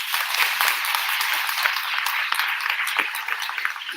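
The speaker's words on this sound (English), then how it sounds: "So can you please give our instructional aides a round of applause?" A school assembly audience applauds its instructional aides, with dense steady clapping from many hands throughout, loud and close, and a few voices under it.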